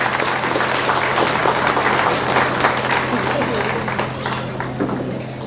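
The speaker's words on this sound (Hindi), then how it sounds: "हम तालियों के साथ सिस्टर का मंच पर स्वागत करते हैं।" Audience clapping at a golden jubilee gathering of a Mother Teresa leprosy centre, loud and dense at first, then thinning a little toward the end, with a steady low hum and crowd murmur beneath.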